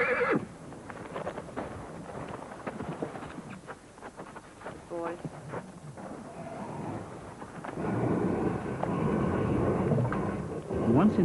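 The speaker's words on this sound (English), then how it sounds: "The dust devil drives the horses towards the holding pen." A horse whinnies briefly near the start amid a dull, rumbling dust-devil wind roar and scattered hoof clatter of wild horses driven into a holding pen, building louder toward the end.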